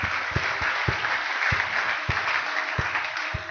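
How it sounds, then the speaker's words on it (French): Church congregation at a French and Lingala sermon applauding for the Lord, a sustained wash of clapping with a few heavier thumps standing out, moderately loud and steady throughout. "Applaudissons pour le Seigneur très fort."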